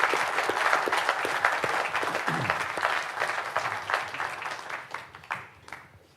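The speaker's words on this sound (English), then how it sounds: "please join me in offering a round of applause to our presenters this morning" An audience applauding presenters at a morning talk on remembering WWII, dense steady clapping from a room of people that thins out and fades toward the end.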